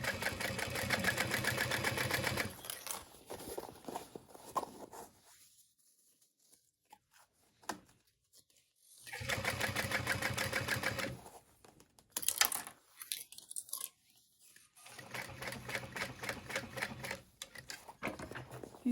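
A sewing machine stitches fabric for a bowler bag at a 4.5 stitch length, running in slow, rattling bursts of a few seconds each, separated by quiet pauses.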